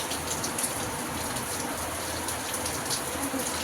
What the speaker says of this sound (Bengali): বাইরে বৃষ্টি পড়ছে